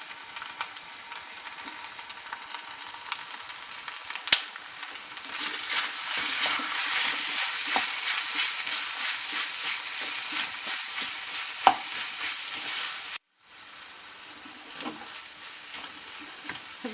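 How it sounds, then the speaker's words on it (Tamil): Spice powders are stirred into Pallipalayam-style chicken frying in a pan, giving a steady close sizzle with scraping stirs throughout. The sizzle cuts out briefly near the end, then resumes more quietly. "இப்போ இந்த தட்டில் எடுத்து வச்சுருந்த எல்லா பொடியும் இதோட சேர்த்து மிக்ஸ் பண்ணிக்கலாம்."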